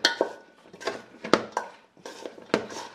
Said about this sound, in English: all we gotta do now is give that a good mix, but be gentle, we don't wanna break up things too much